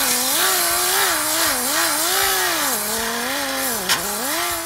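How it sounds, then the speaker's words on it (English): A 50 grit sanding disc grinds on metal, a sustained motor whine that rises and dips in pitch as pressure shifts, with a rough abrasive hiss throughout and one brief sharp tick near the end. "So now we'll be moving on to a finer 50 grit sanding disc."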